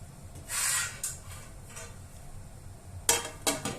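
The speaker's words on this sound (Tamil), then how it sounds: "தட்டு போட்டு மூடிட்டேன்." Clinking and scraping of metal and ceramic, a few quick knocks as a plate is set down over a pot of pepper chicken biryani, with quiet gaps between.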